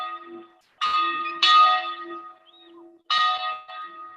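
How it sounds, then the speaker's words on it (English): A church bell rings out over open countryside on a Sunday morning, recorded on site: loud, resonant strikes come in separated clusters, each with a long shimmering decay, heard alone with no talk. "the bell was rung, and this rather beautiful sound of it ringing over the landscape,"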